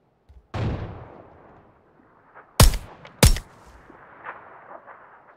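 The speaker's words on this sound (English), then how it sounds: "I'm getting shot at" Gunfire in PUBG during a squad match, a muffled distant boom followed by two sharp, loud cracks about half a second apart, with faint rustling between.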